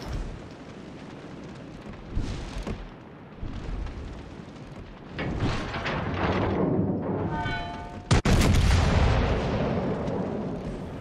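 Booming naval cannon blasts and rumbling explosions from World of Warships Legends, heavy and loud, with one sharp crack near the end.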